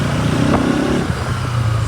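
Bajaj Pulsar NS200 motorcycle engine droning steadily on a short ride, with loud wind-buffeted rumble close to the mic and no talking.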